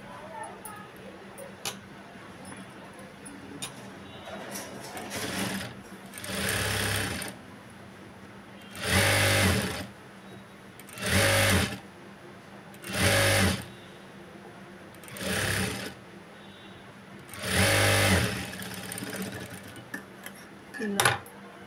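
A sewing machine stitches a Punjabi dress top in short repeated runs: about seven distinct bursts of fast, close needle chatter separated by brief quiet pauses.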